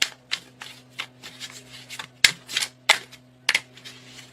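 Tarot cards are shuffled by hand in a series of quick riffles and soft slaps, close and crisp, with a faint steady hum underneath.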